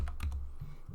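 A password being typed on a computer keyboard: a handful of quick, close keystrokes clicking in an uneven rhythm over about a second, with no voices.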